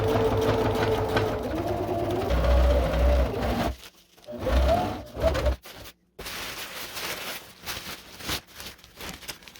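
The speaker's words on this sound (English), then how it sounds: "finish this seam off with a zigzag stitch" A sewing machine stitches a zigzag seam on skirting material for a compact teardrop trailer, its fast rhythmic needle chatter running in close bursts that stop and restart with short pauses between them.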